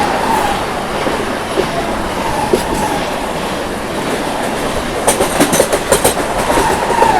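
The Gurumukhi Superfast Express runs on its way from Jasidih to Kolkata, heard as a loud steady rumble of moving rail carriages with no talking. A burst of rhythmic clickety-clack comes near the end.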